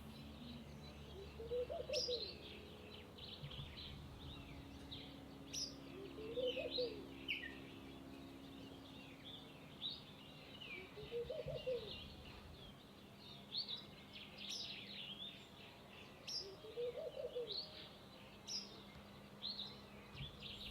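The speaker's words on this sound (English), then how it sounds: "And all the time singing and pumping its tail in true wagtail fashion" A Cape wagtail sings from a rooftop in short, bright chirping phrases that recur every few seconds, fairly faint and distant over a quiet outdoor background with a low hum.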